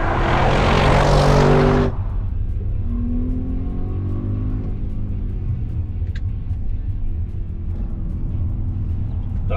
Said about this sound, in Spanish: ¡Qué manera de acelerar, eh!